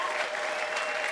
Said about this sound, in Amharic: ካጨበጨባችሁ በደንብ አድርጋችሁ አጨብጭቡ